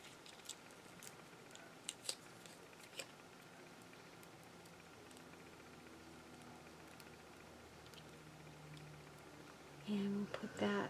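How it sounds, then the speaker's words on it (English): Scissors snip a strip off craft material for an Art Deco easel, with a few sharp, close cuts early on over a quiet room, then a louder bump near the end. "we're going to cut one more strip off of this"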